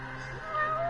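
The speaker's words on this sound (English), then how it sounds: "I hear a cat!" In the Lost Judgment video game, a cat lets out one short meow over a steady game background hum, fairly close and clear.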